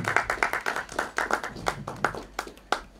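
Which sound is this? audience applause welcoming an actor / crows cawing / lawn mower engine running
audience applause welcoming an actor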